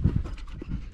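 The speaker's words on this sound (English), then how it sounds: "Oh, my crying German short hair flusher." A German shorthaired pointer pants quickly and close by after a sharptail grouse hunt in Montana, a short burst of rhythmic breathy huffs.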